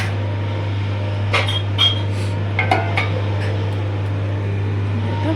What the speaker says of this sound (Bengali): নিয়ে এবার ঢেকে দেবো।